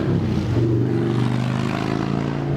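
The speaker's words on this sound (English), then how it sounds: "Hi, motorcycle." A motorcycle passes by outdoors, a loud continuous engine drone close by that fills the whole moment.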